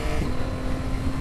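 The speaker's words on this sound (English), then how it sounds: "An incredible sound from the engine" A 2024 Yamaha XSR900 GP motorcycle engine heard up close while riding, giving a loud, rough, continuous roar with grainy texture and no clear gaps.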